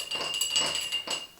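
A spoon stirs a hot buttered rum cocktail made with sugar and fresh spices in a glass: a brief run of light clinks and swishes, close and soft, no voices.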